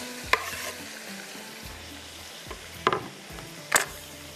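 Raw tomatoes go into a frying pan for a black pepper chicken, a soft continuous sizzle broken by three sharp spatula knocks and scrapes against the pan, close and unaccompanied by talk.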